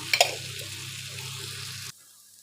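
Potatoes frying and being stirred in an open pan for a potato kara curry, a steady close sizzle with a few sharp scraping stirs near the start, cutting off abruptly near the end.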